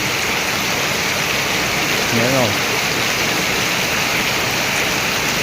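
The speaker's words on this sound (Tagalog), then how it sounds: "Sobrang lakas ng hangin, sobrang lakas ng ulan at hangin." Heavy typhoon rain pours and gusting wind roars in a loud, steady wash through the whole stretch, with a brief voice heard over it.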